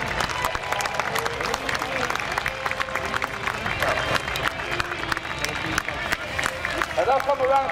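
An outdoor show crowd applauds a gymnastics display team steadily, a dense patter of many hands clapping throughout, with some cheering and murmur mixed in.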